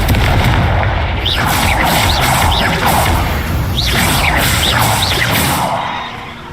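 A spell in the Hogwarts Legacy video game sets off a loud burst of booming blasts and crashes, with whooshing streaks layered over the roar, dense and close, then dying away at the end.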